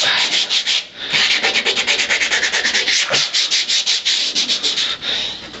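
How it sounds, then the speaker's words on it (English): Wire wheel scouring surface rust from the floorpan of a 1962 Ford Falcon, a close, loud, harsh scratching grind in rapid repeated strokes with no talk. "Wire wheel. Just went in there and got that little crevice corner cleaned out."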